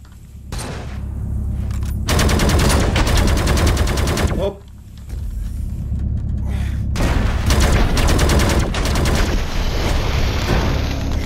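Rifle gunfire in the survival video game Dysmantle: loud, close bursts of rapid automatic shots come in several long volleys separated by short pauses, with occasional heavier booms between.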